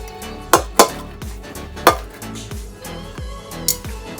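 Pieces of ash gourd drop into a pressure cooker with a few sharp, hollow clunks of metal, spaced irregularly over a quiet background.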